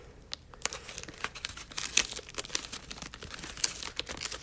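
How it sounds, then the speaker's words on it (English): Tape pulled and pressed around a paper mache crayon gives a steady run of close crinkling and sticky tearing crackles, with sharper snaps scattered throughout and no voices. "I'm actually gonna smooth this out by just placing the tape around in a circle"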